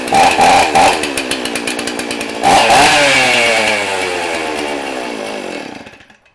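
A Stihl 034 chainsaw with a freshly rebuilt carburetor is pulled over several times with sputtering bursts, then catches and runs loudly at high revs for a few seconds before dying away.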